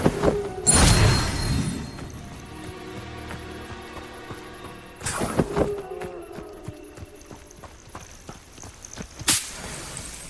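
Incendio fire spell cast in Hogwarts Legacy: three sharp whooshing bursts of flame, each followed by a fading crackle, over a quiet game ambience.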